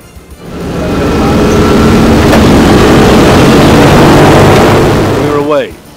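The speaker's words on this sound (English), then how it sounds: "Then it was full throttle on all four engines." Inside a noisy, cramped four-engine vintage aircraft, the engines swell to full throttle into a loud, steady roar that holds, then dips briefly near the end as a tonal whine sweeps upward.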